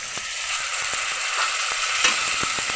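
Chopped tomato and spices fry in a pan for a fig and prawn curry, with a close, steady sizzle broken by quick, regular spatula scrapes as the mixture is stirred, with no voices.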